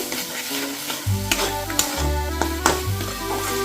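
Masala for doi katla sautéing in oil, a steady frying hiss with spoon scrapes and stirring clatter against the pan, close and continuous without talk.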